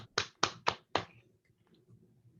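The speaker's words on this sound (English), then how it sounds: "Give them a round of applause." A few participants in an online virtual event clap, producing four sharp, close claps in quick succession that then give way to quiet background murmur.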